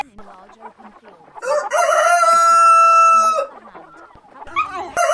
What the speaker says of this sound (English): The rooster's crow at dawn is not just a morning call.